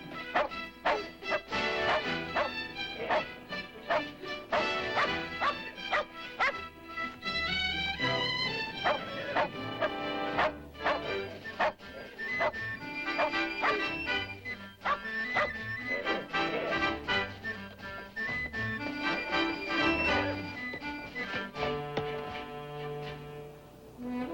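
A Shetland sheepdog working with a young rancher barks repeatedly in short yips, mixed into a busy, continuous orchestral music score that stays loud the whole time.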